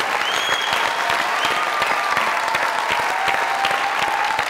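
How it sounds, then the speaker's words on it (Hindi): Dense, sustained applause from a studio audience at a Pakistani comedy talk show, a standing ovation of steady clapping that fills the room without letting up, with a few faint voices mixed in. "स्टैंडिंग ओवेशन खड़े होके लैला जुबैरी जी का इस्तकबाल किया जाए। बहुत सारी तालियां में।"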